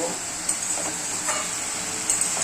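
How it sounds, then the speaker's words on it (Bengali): Spices cook down with a little water in a pan on the stove, a steady close sizzle with a few light stirring scrapes. "এবারে জল দিয়ে কষিয়ে তারপরে পুরো জলটা ঢেলে দেবো"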